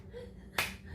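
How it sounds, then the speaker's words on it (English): A single sharp hand clap, the wide flat-palmed manta ray clap, lands once partway through, close and crisp against a quiet room. "I give you the manta ray clap"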